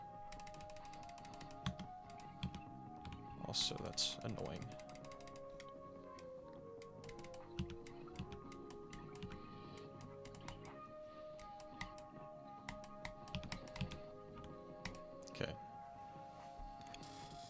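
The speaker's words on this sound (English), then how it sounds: "this is like a lot of clicking" Rapid mouse clicking while playing a Geometry Dash level, quick uneven taps and bursts through most of the stretch over game music, with a brief spoken remark.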